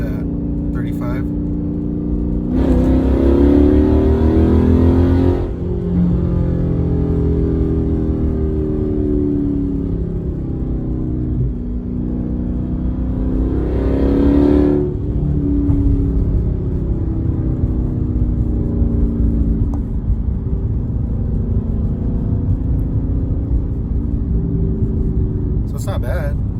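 An engine with an aftermarket exhaust hums and swells in third gear as heard from inside the cabin, a low steady drone rising in two revs while someone talks over it.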